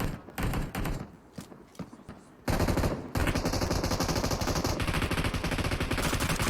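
Rapid automatic gunfire from the mobile battle royale game PUBG Mobile: scattered shots at first, then sustained loud bursts of machine-gun fire filling the second half.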